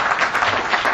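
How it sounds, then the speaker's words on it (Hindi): A brief burst of audience clapping fills the hall at a literary society's annual gathering, steady and moderately loud. "एक बार तालियां बजाइए आगे का।"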